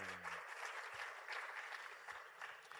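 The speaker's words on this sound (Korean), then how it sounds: "찬양받기 합당하신 하나님께 영광의 박수 올리겠습니다." A church congregation at a Wednesday worship service claps in a steady, dense round of applause that fills the room.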